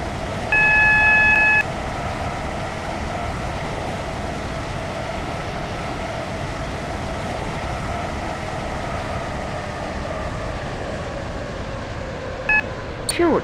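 A Class 319 electric train in the SCR railway game runs with a steady, even hum and rail rumble, and short electronic beeps sound near the start and close to the end.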